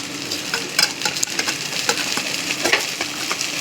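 Rice grains and bay leaves sizzle steadily in hot oil for a yellow Bengali pulao, with scattered sharp crackles and scrapes of stirring close by over a dense frying hiss, no voices.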